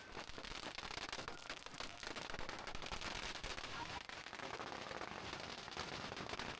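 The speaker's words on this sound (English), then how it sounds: "ladies shielding themselves from all the loud noise of the firecrackers" Firecrackers go off at a crowded street parade in a dense, unbroken stream of rapid crackling pops that stays fairly faint and steady throughout.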